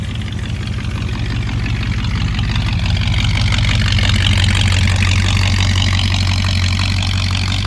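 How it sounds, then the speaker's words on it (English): A 1964 Chevrolet Impala with a 4-speed idles steadily, a loud, deep, even engine and exhaust rumble heard up close near the tailpipes with no talking. "Solid sounding motor. Go ahead and walk around so you can hear the tailpipes."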